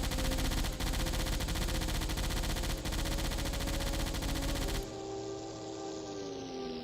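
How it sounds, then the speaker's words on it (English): A submarine's flak gun fires continuously in a naval video game, a dense, loud, rapid rattle of shots that cuts off abruptly and leaves a low mechanical hum. "Man the flak gun. Yes, sir. Firing at will."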